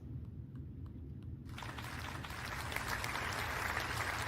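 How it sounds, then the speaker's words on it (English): Audience applause welcoming a presenter at the 2022 KERIS education symposium, starting faintly with a few claps and swelling into steady, dense clapping from a large hall crowd that continues to the end. "Let's welcome him with a big round of applause."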